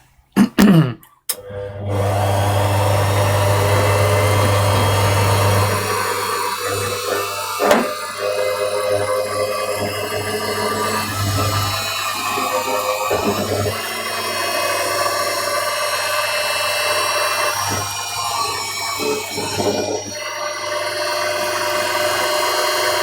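A steady mechanical whir of a drill boring holes through a book block runs almost continuously for about twenty seconds, close by, with brief pauses and a few knocks and shifts in pitch.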